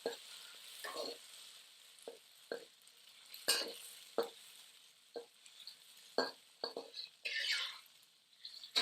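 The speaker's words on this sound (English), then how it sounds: "just go ahead and stir fry this for about 2 minutes or so ought to be good" Scallions and roasted red peppers stir-frying in a pan for curry and soy glazed chicken, quiet sizzling broken by a string of short scraping stirs and tosses, fairly close, with no talk.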